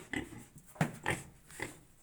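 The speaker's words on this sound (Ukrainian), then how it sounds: "Наші поросята такі маленькі, гарненькі поросята." Small young piglets give four short grunting squeals in quick, uneven bursts, fairly quiet and close by.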